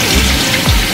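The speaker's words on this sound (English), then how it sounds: "We're gonna rinse it off." Water runs and splashes while a burnt pot is rinsed out, a loud, steady wash of spray with a brief surge of pouring near the end.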